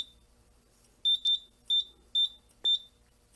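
A fire alarm panel in a smoke detector test emits five short, sharp electronic beeps, some paired and evenly spaced, clear over a quiet room.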